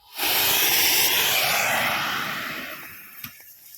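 A homemade sugar rocket motor fires with a loud, sustained roaring hiss that starts abruptly, holds steady, then gradually fades over a few seconds, ending with a brief pop.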